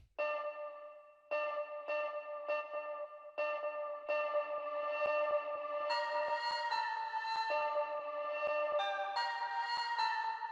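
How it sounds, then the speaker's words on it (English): A sampled synth tone in the Iris 2 sampler plays as a string of pulsing, sustained notes that repeat with delay echoes, the trails blurring together as the pitch steps upward, steady and fairly loud with no talking. "Let's add a little bit of delay to that."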